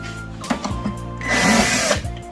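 Short whirs from an electric screwdriver removing screws from an LG dual air conditioner build into a sustained, louder buzzing spin, heard up close with no talking.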